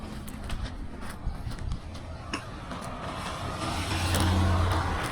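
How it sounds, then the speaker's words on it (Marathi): A car's engine rumbles steadily as it is driven out during a wedding gathering, swelling louder toward the end, with voices and background bustle around it. "काढली मानेनी गाडी काढली"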